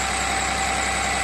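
A Cummins 6.7 turbo diesel engine running on HythanolPLUS fuel idles close by with a loud, steady, even rumble and no variation in pace.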